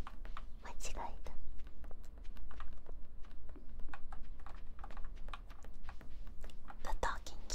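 Computer keyboard typing during a morning Stardew Valley gaming session, close and crisp irregular key clicks with soft whispered speech over them.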